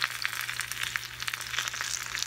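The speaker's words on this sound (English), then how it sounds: "I'm gonna check on the ones that I'm actually frying" Chicken taquitos frying in a pan of oil over medium heat, giving a steady, soft crackling sizzle throughout at a moderate distance, with no voices.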